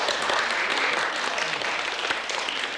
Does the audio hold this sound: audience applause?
yes